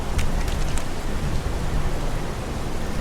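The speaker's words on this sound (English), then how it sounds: "It's pouring rain." Heavy rain pours down in the video game Heavy Rain, a dense, even hiss of downpour with a low rumble beneath, a few brief higher splatters early on, and no voices.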